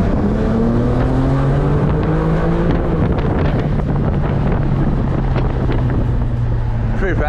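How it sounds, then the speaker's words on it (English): An 800 HP BMW G80 M3 accelerates on the road with its turbo whooshing and rising over loud engine drone and heavy wind buffeting, the pitch climbing steadily throughout. "The little turbo."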